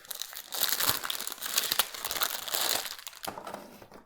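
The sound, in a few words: tearing open packaging of a light strip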